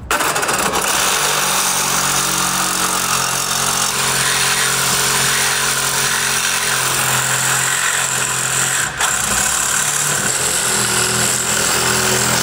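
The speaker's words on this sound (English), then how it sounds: "makes it way easier to cut off little pieces with an angle grinder" An angle grinder fitted with a fresh Diablo blade cuts metal with a loud, continuous, harsh roar and grinding whine that holds steady throughout, with a brief dip near the end.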